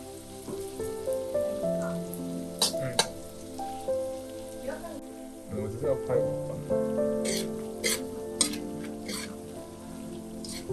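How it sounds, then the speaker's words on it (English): Shallots frying in hot oil, a steady crackling sizzle like light rain, with occasional louder pops and stirring scrapes, close up, partly under background music and a talking voice. "add the shallots into the oil"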